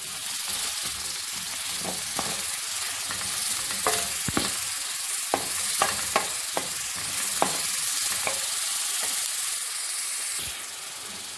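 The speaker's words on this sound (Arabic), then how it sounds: "ونرميو البصله ديالنا تشحر وتهبط مزيان البنات، ونضيفوا لها التوابل بطبيعه الحال" Chopped onion frying in oil with spices, a steady bright hiss and sizzle close up, broken by short sharp crackles and pops and occasional stirring sounds.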